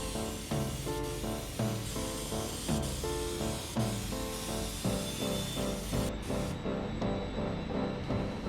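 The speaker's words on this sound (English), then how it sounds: "looks like the airbrush doesn't want to put it down." An airbrush sprays metallic paint in a steady hiss broken into regular short bursts roughly once a second, close by and with no speech.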